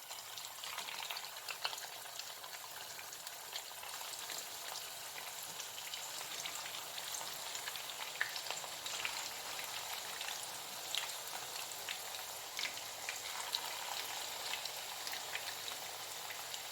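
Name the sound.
mint chicken nuggets frying in hot oil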